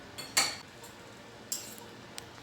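A spoon clinks against a baking tray while macaroni with béchamel is stirred, giving a few sharp, sparse metallic taps with quiet pauses between them.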